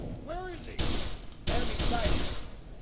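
Gunfire in F.E.A.R. 3 with sharp bursts of automatic shots at close range, broken by brief pauses, while a voice speaks over the shooting.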